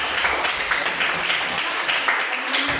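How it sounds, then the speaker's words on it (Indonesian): Students in a classroom clap for a classmate during an informatics lesson, a short burst of scattered, uneven applause from a small group, fairly close and moderately loud. "Bagus, tepuk tangan untuk Indah."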